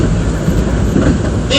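Nankai Koya Line train pulling into Sakaihigashi station during heavy rain, a loud, dense rumble of wheels and car body heard from inside with steady clatter and a voice talking faintly beneath.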